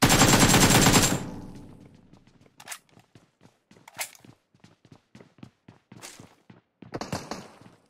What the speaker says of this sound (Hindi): फायर कर रहा है अपार्टमेंट से